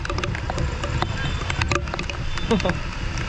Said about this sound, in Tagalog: Ayun, bangka oh.